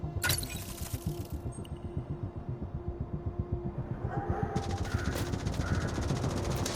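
A hostile turret in the Division Resurgence game fires in a rapid, steady stream of close, punchy shots that runs throughout, later joined by a higher whining hum. No one speaks.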